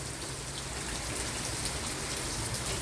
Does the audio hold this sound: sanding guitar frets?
no